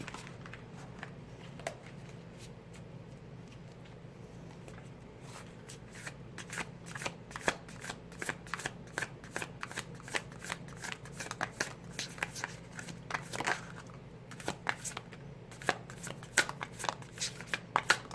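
Tarot cards being shuffled by hand in a quiet room, a steady run of crisp riffling clicks and soft slaps that grows denser and busier over time.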